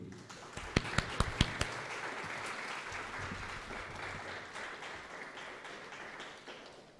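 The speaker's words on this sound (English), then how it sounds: "Can we have a round of applause for the year ones?" Applause from a school speech day audience honouring year one pupils, a few sharp distinct claps at first, then a steady, fairly even wash of clapping that holds and slowly thins, with no talking over it.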